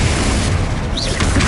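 In Hogwarts Legacy, a Confringo spell explosion lands as a loud booming blast over dense game effects, with no voice heard.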